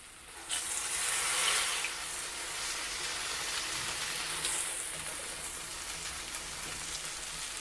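Vadas frying in hot oil, a continuous loud sizzling hiss that swells briefly early on, then settles into a steady crackle with no talking.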